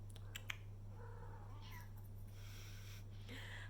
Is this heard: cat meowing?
yes